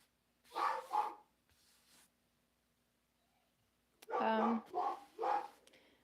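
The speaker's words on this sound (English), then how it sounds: "otherwise you're just gonna hear dogs barking" Dogs bark in two short bursts, a couple of close barks, then a pause, then three more, fairly loud against an otherwise quiet room.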